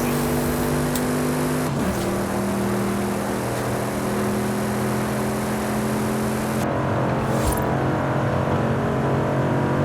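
Audi RS 7 with a 4.0L engine driving at night, its engine droning steadily from inside the cabin with a gear change and a rise in revs partway through, loud and continuous with no talk.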